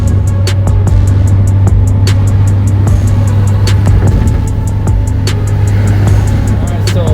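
A Mitsubishi 2G Eclipse Spyder cruises on new 18-inch wheels, its engine a steady low drone with constant road and wind rumble heard from inside the car, with occasional clicks and faint voices.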